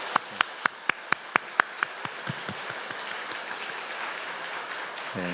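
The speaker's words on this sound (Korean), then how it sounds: "우리 환영의 박수 함께 할까요?" A church congregation applauding to welcome first-time visitors at a Sunday service: a few loud, evenly spaced claps up front give way to a softer, dense patter of applause that fades into a low murmur.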